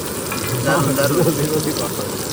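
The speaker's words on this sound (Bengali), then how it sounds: "জিরার পরে যাবে পেঁয়াজ ভাজা, পেঁয়াজ আর রসুন একবারে দিয়ে দেবো" Onion and garlic fry with cumin in a hot pan, a continuous crackling sizzle with someone speaking over it.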